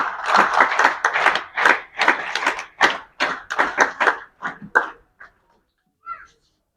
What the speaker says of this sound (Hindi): तो आप वीर ताली बजाकर इनका स्वागत करें